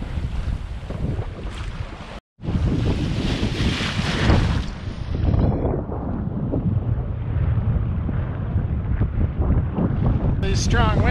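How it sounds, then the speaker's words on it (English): Strong 25-knot wind roars over the sea off New England, buffeting the microphone over rushing water, a steady broadband howl with a brief dropout near the start. "Strong winds finally showed up."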